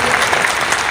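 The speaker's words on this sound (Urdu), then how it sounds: "اور اجازت کیسے دی جاتی ہے اپنی تالیوں سے؟" A large crowd at a mushaira poetry gathering in Bidar claps loudly and densely in a brief, unbroken burst of applause.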